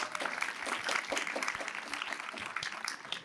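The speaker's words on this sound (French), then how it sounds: "Sous vos applaudissements." Applause from an award-ceremony audience, a steady dense patter of many hands clapping for the full stretch at moderate distance, with no talk over it.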